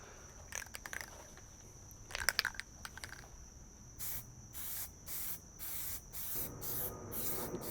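Spray paint hisses onto a styrofoam plant model in short bursts, close up: some scattered early bursts, then a steady run of evenly spaced sprays with brief pauses between them, with no talking.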